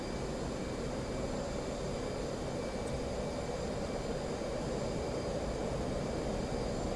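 An F/A-18 jet engine in a flight simulator game, on a dawn strike over the Persian Gulf, gives a constant broadband roar as power is added, steady and unbroken with no voices.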